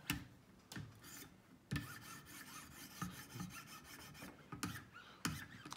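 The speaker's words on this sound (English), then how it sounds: "I'm still removing the metal at the very edge of the knife here, of the bevel here" A knife blade is drawn along the sharpening stones of a Wicked Edge guided sharpener, removing metal at the edge bevel. The steady rasping strokes repeat in a regular rhythm, close and moderately loud, with no talk.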